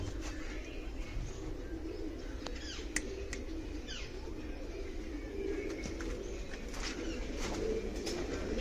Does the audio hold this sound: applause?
no